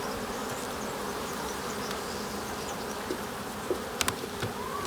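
A dense, steady drone of honeybees around an opened hive during an early spring inspection, close and continuous, with faint clicks from the work at the frames.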